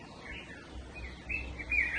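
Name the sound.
birds singing in a garden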